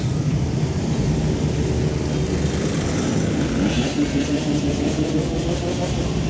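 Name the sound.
motorcycles revving engines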